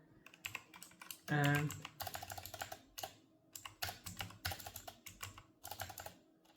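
Typing on a computer keyboard, quick irregular clusters of clicking keystrokes with short pauses, close and fairly quiet, while someone talks over part of it.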